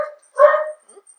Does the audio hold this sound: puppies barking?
yes